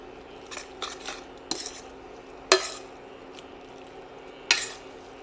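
Cacio e pepe pasta being stirred with added pasta water, heard as a few sharp metal utensil clinks against a pan between soft, wet stirring movements, close up with no talking.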